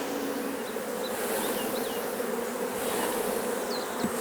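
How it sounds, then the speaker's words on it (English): Honey bees shaken from a frame into a hive box during summer colony splitting buzz steadily and densely, a close, continuous swarm drone with individual insects whining past. "Now I'm just going to shake a load of bees into that box."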